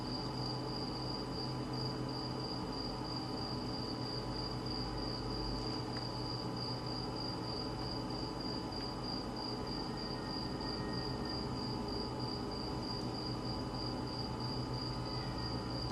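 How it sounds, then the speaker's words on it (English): Crickets chirp steadily outdoors in a continuous high-pitched trill that runs the whole time over a low, constant background hum, with no talking. "you can hear the crickets chirping from outside of my"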